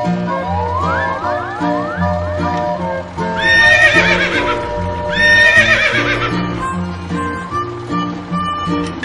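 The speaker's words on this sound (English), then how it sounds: "Horse." A horse neighs and whinnies twice over a bouncy nursery rhyme backing track, with clip-clopping hooves trotting along steadily beneath the music.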